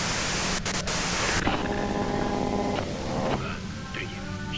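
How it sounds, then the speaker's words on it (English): Hissing white-noise static from the video game Disco Elysium, a broad loud wash that drops to a thinner hiss partway through, with faint tones and clicks in the background. "you can do it through the white noise."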